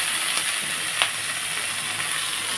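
Ginger and green chili paste frying with spices in a pan, a steady close sizzle and hiss with a faint stir or two and no talking.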